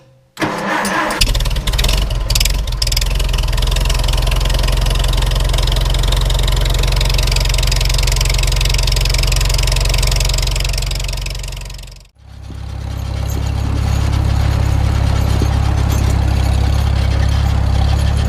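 Old Farmall Super M tractor engine running close and loud in a wooded skidding area after a cold snap, a steady heavy low rumble that dips briefly and then resumes.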